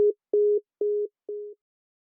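After a phone call is hung up, a line tone sounds four short, evenly spaced beeps at a steady pitch, clean and isolated against silence.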